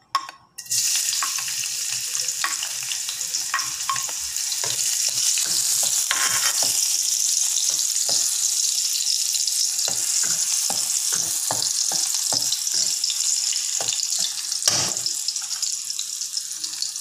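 Chopped garlic sizzles in a small amount of hot oil, a steady close crackling hiss broken by repeated scraping stirs of a spatula in the pan.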